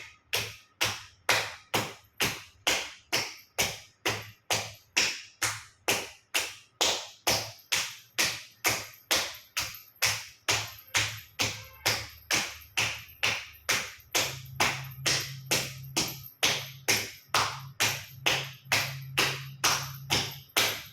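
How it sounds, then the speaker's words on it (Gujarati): Hands slap hard against the soles of both feet in a yoga exercise, a long steady run of sharp, loud, evenly spaced smacks, roughly two per second, with a faint low hum underneath and no talking. "બંને સાઈડ પગના તળિયા ઉપર જોરથી ઝાપટ 50 વખત જોરથી તાળી આપીશું."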